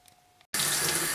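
A kitchen tap opens suddenly and runs in a loud, steady gush for rinsing shaggy mane mushrooms, close by, after a brief quiet moment.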